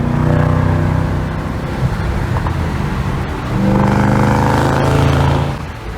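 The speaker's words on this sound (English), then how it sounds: "wide open throttle, you really hear the mufflers" 2014 Shelby GT500 with a Borla ATTAK catback exhaust accelerating hard, a loud, deep exhaust roar with two surging pulls separated by a short dip.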